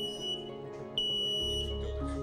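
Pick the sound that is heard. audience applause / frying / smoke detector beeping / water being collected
smoke detector beeping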